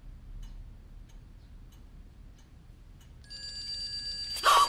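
A mobile phone starts ringing near the end, a bright electronic ringtone with steady tones rising over a quiet room, loudest in its final moments.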